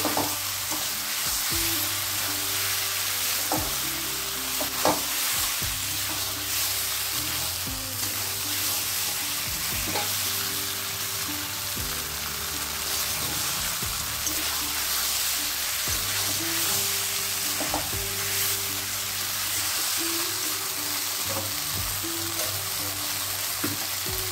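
Small chopped pieces of goat fat fry with spices in a pan, sizzling and crackling loudly and continuously up close, with spatula stirs and brief scrapes breaking through the steady hiss.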